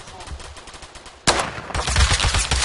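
Gunfire in the Roblox shooter Phantom Forces: a sudden loud burst kicks in halfway, followed by sustained rapid shots that carry through to the end.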